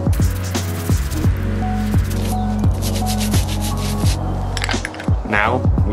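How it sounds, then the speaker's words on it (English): Brisk rhythmic scrubbing of an old bass crankbait lure, repeated rasping brush strokes up close with a few sharper scrapes near the end. "Now, we scrub."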